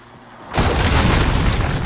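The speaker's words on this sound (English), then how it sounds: "Enemy cruise missile." Enemy cruise missile exploding in Call of Duty: Modern Warfare (2019) on the Shoot House map, a sudden deep boom after a quiet moment, followed by a loud sustained rumbling roar.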